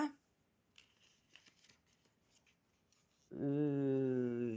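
Oracle cards are shuffled for a reading in a faint, papery run of soft riffles and taps, then a loud, sustained tonal sound abruptly takes over.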